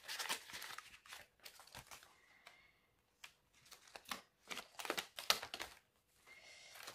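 Paper banknotes and an envelope are handled at close range during home budgeting, with several bursts of crisp crinkling, rustling and shuffling separated by short pauses.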